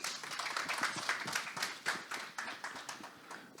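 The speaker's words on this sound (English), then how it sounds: "Can we have a huge round of applause for all of them?" An audience at a corporate learning and development summit claps for panel speakers, a fairly faint, scattered round of hand clapping with distinct individual claps that thins out over a few seconds.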